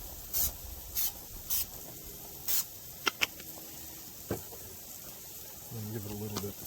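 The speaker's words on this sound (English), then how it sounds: "gotta spray this carefully so you don't get a fire going" Several short hissing bursts of cooking oil sprayed onto a hot cooking surface during weekend van life, evenly spaced near the start, followed by faint sizzling and a brief tonal sound at the end.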